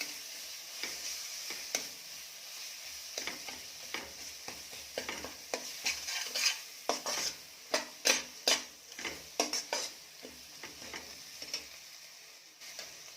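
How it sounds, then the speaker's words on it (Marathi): Ginger-garlic paste sautéing with masala for a Kolhapuri mutton curry: a steady close sizzle with a run of sharp spoon scrapes and clacks against the pan, growing busier in the second half, no voices. "यामध्ये टाकायची आहे आलं लसूण पेस्ट ही पण छान परतून घ्यायची आहे"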